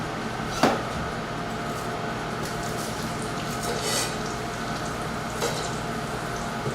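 Garlic and onions frying in oil in a wok left over from cooking beef, a steady close sizzle and hiss with a couple of brief clatters from the pan.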